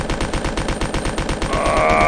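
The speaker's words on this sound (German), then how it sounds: "Ich werde jetzt mit der Waffe auf ihn schießen." Rapid automatic gunfire from a weapon in the Resident Evil 2 video game, a fast steady stream of shots lasting about two seconds and growing denser toward the end, with a ringing tone joining in near the close.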